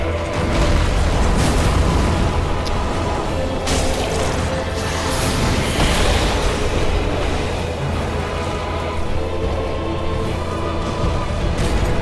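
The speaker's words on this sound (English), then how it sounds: "at this point, I start using the fire bombs" Fire bombs bursting in Dark Souls 3 during the Iudex Gundyr boss fight at the Cemetery of Ash, a loud, continuous roar of blasts and crashing impacts with no pause.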